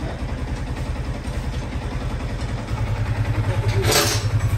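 A Yamaha R15 V3 motorcycle engine idles with a fault linked to a failing oil pump and damaged piston, running with a steady close rumble and rough pulsing, then swelling slightly and revving briefly near the end.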